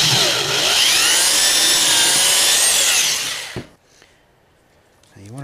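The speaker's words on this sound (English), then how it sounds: "now that we have the hole drilled" A power drill bores a hole through a sprinkler valve with a loud, steady, whining grind for about three and a half seconds, then stops abruptly, leaving quiet handling noises.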